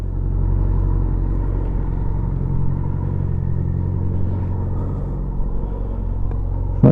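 A 1987 Honda GL1200 Goldwing motorcycle engine idling steadily nearby, a loud, continuous low rumble that holds even throughout with a brief rise at the very end, no talking.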